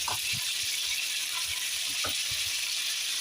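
Meat dropped into a hot pan of onions sizzles steadily, a close, constant hiss of frying with a few soft clinks and stirring knocks from the pan.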